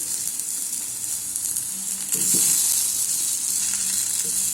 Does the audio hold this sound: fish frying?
yes